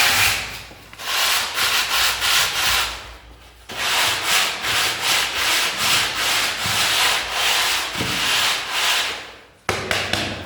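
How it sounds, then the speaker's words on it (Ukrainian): Steady abrasive rubbing of a sanding float over freshly plastered wall around concealed wiring boxes, loud and continuous in long strokes with two brief pauses, no talking. "І так потихеньку пройдемося, прошліфуємо."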